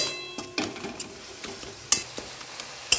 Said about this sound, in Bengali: রসুনের কাঁচা গন্ধ যেন না থাকে সেই হিসেবে ভেজে নিচ্ছি।